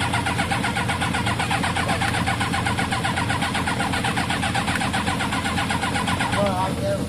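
Kawasaki ZL600 motorcycle engine cranking and catching, a steady buzzing mechanical rattle running loud and close throughout, with voices talking over it.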